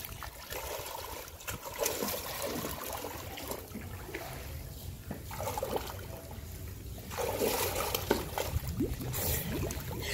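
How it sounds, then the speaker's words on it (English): A child swims underwater in a pool, heard as continuous muffled water churning and trickling with bubbling surges that grow slightly louder toward the end. "Swimming like a pro, Sammy."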